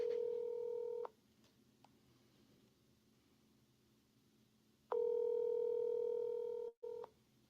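A phone number is keyed on a telephone, two bursts of steady dialing tones separated by a quiet gap of several seconds, clear and close with no talking.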